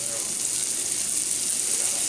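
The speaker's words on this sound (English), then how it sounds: "You can see there's a little sizzle going on there." Breaded venison cube steak sizzles in a hot pan, a steady, close frying hiss without any break.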